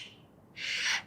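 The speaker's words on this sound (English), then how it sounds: "I don't know if y'all can hear the birds speaking to me." A single bird calls outdoors in two brief, clear bursts, a short note followed by a longer bright trill, close and distinct against a quiet background.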